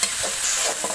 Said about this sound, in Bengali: মশলাগুলো সুন্দর ভাজা হয়ে গেছে,